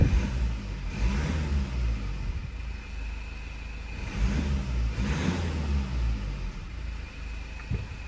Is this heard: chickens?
no